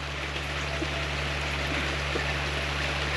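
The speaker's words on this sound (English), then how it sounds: "right now a fair bit of the wastewater going in there, as it should" Wastewater from a SimPure 5 stage RO water filtration system with a built-in booster pump flowing into a container, a steady even rush alongside a constant low hum, close and unbroken with no talk.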